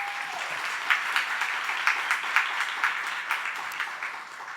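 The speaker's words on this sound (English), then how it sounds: "Round of applause." Conference audience applauding steadily for several seconds, a dense patter of many hands at moderate distance with no voices over it.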